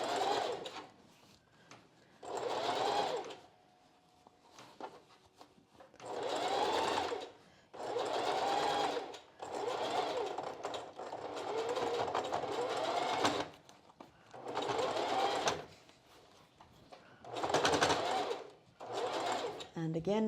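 A sewing machine stitches along the underwire channeling of a strapless bra in repeated short bursts of steady running. A voice speaks between and over the bursts.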